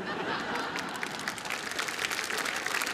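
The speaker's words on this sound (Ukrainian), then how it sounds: "Бачите, як в залі от, аплодують і співають." A comedy concert audience applauds in a hall, producing a broad, continuous wash of clapping at moderate distance, with scattered chuckles and murmurs mixed in.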